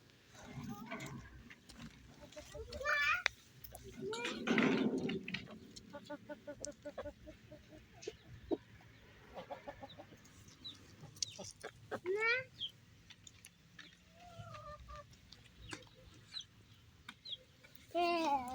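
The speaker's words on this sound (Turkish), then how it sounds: "burada tavuklar da varmış" Chickens clucking and calling at a farmyard with calves nearby, scattered bird squawks among rustling and occasional voices in the background.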